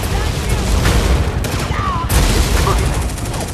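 Gunfire rattles in a battle in the video game Tom Clancy's EndWar, dense close bursts under voices speaking, with a brief radio-like tone.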